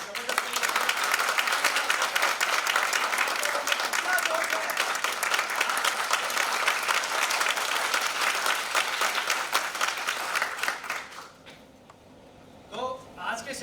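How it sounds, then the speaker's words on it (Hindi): At a company commitment meeting, a large audience applauds loudly and steadily for about eleven seconds before the clapping fades, and a voice then briefly speaks alone. "एक बार अपने लिए तालियां बजा दीजिए"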